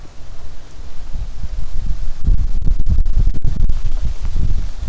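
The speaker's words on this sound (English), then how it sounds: "the rain is really kind of starting to come down now" Rain begins falling outdoors during an evening cigar session, a soft, steady patter that thickens partway through with a burst of close, sharp drops and crackles striking nearby surfaces.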